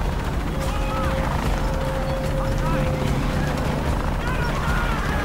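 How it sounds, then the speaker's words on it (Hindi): A helicopter hovers in the video game Shadow of the Tomb Raider, its steady mechanical rotor rumble filling the scene alongside other game noise, with a voice talking over it. "बाहर टंगा हेलीकॉप्टर पे"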